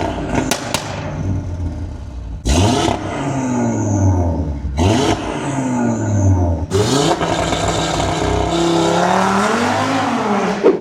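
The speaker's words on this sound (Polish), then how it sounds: "posłuchajmy teraz dźwięku rzędowej piątki" Audi RS3 8Y facelift inline-five engine fitted with a downpipe, revved hard in three loud bursts with pauses between, each rising then falling, ending in a longer sustained rev.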